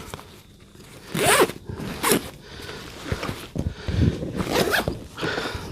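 Several quick zips of the mesh zipper on a backpack's inside lid pocket, sharp and close, in short bursts with handling rustles between them.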